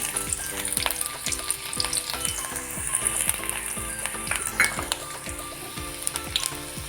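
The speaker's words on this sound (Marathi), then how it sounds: "आता त्यामध्ये मी तेल गरम झालेलं आहे त्यामध्ये मी लसणाच्या पाकळ्या" Garlic cloves frying in hot oil for home-made palak paneer, a steady close sizzle with repeated scraping strokes of a spatula against the pan, alone with no talk.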